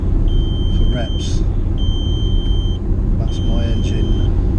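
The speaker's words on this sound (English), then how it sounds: "That's my engine telling me it needs some coolant. Beep beep beep." A car warns of low engine coolant with a high, steady electronic beep that sounds three times in long tones over a rumbling engine and road noise, with brief voice sounds in between.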